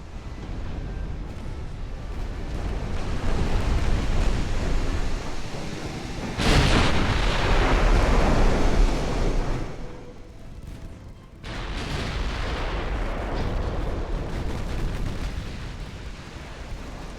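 Heavy naval artillery shells a battleship in Ultimate Admiral: Dreadnoughts, a loud, sustained rumble of booming blasts with a sharp, intense burst near the middle, then a brief lull and more rolling bombardment.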